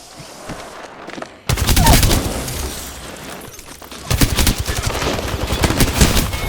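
Gunfire in the Apex Legends video game, loud close bursts of rapid automatic shots, a sudden heavy volley followed by a longer sustained rattling stretch.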